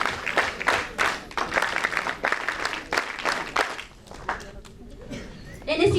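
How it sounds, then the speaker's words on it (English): An audience claps for a contingent from Delhi at a camp inauguration, a dense burst of applause that swells and fades over a few seconds, with voices mixed in. "give a huge round of applause for contingent of Delhi"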